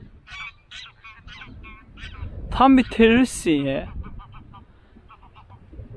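Ducks on a farm in the Faroe Islands give loud, close honking quacks in a short burst, with someone speaking before and after the calls.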